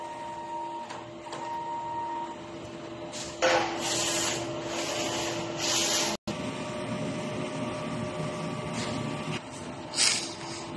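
A DTF printer runs a nozzle test after a head clean, its print head shuttling back and forth with a steady mechanical whir and brief louder hissing passes, heard alone up close.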